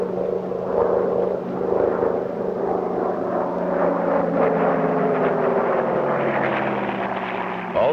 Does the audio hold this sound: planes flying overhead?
yes